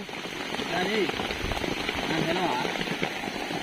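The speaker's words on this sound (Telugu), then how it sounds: "పెద్ద వాన పడుకునే కదప్పా" Heavy rain pours steadily on open ground near a cotton field, a dense continuous hiss of drops on surfaces with people talking over it throughout.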